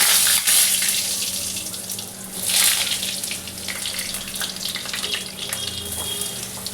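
Cumin seeds dropped into hot oil for aloo potol dalna sizzle and crackle steadily and close, a bright hiss with a brief surge near the middle and no talk.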